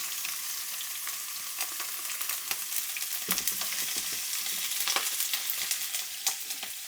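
Carrots frying in oil in a pan for a spice bag in a bowl, giving a steady, close sizzle with crackling pops throughout and occasional stirring scrapes, no voices.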